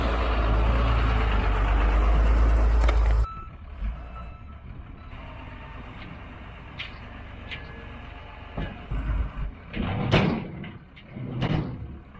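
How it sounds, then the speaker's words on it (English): A truck approaches outdoors: a loud rumbling idle cuts off abruptly, then quieter mechanical clanks, hisses and knocks follow at a distance, with a few sharper bursts near the end. "Looks like we got a truck coming."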